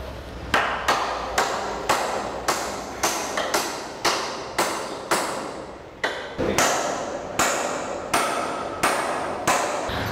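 Hammer striking nails into a timber ridge batten on a roof being fitted for Decra roofing, about seventeen sharp ringing blows in a steady rhythm, close and loud with no talking.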